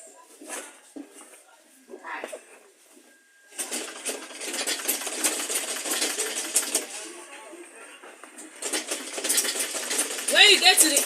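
A sewing machine stitching material for an insulated school lunch bag, in quick mechanical bursts that start and stop before settling into a longer run of close, clattering stitching that grows louder toward the end.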